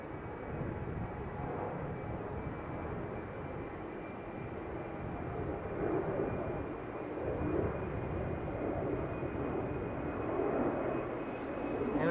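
An Embraer 190 jet bound for Manchester gives off a moderate, steady engine drone that swells slightly in the middle and again near the end, heard from some distance with no voices.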